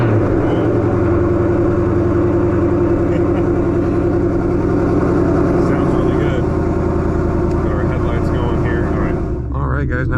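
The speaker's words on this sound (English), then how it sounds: "Let's go ahead and start up for the first time with the new tune loaded." A 2020 Ford Mustang GT V8 running on a new 91 octane tune, idling loud and close with a steady throaty rumble for several seconds before cutting off abruptly.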